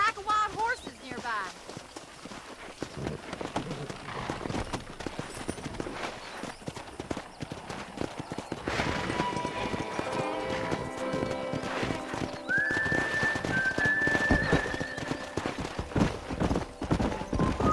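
Wild horses in a Western video game trot with steady, rhythmic hoof clip-clop and give a clear whinny later on, alongside a music score and voices.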